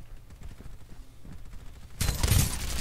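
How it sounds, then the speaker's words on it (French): Burst of gunfire from the Farlight 84 battle royale mobile game erupts near the end, loud and dense after a quieter stretch of low rumbling game ambience. "Alors ça tire."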